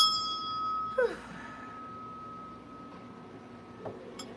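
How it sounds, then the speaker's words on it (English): A small bell rings once with a bright tone that fades quickly, followed by quiet room noise. "ring the bell"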